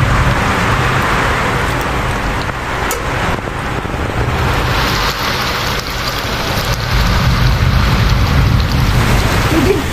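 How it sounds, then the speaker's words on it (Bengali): Strong storm wind tears through fruit-laden trees in a loud, continuous rushing roar that swells and stays dense throughout, with no voices. "এই দেখেন হাই রে বাতাস হইতাছে"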